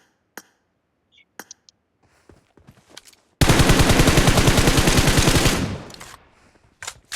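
A long, loud burst of rapid automatic M4 rifle fire in the mobile shooter BGMI, fired at a distant target, preceded by a few scattered clicks and brief single shots, then cutting off abruptly before a couple of faint taps.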